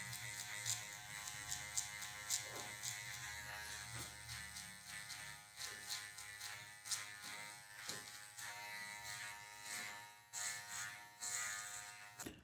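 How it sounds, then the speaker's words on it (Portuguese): Electric hair clipper buzzing steadily while its tip trims darker stray hairs during a low fade haircut, a close, continuous motor whine with brief pauses and small clicks as it touches the hair. "com a ponta da máquina, eu já vou tirar uns cabelinhos que eu considero mais escuros"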